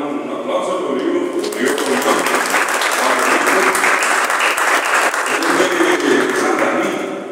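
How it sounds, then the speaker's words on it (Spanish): Audience applause at a poetry anthology presentation, a broad burst of many hands clapping that swells and holds loudly, with some voices mixed in underneath. "mando un aplauso a Rodrigo"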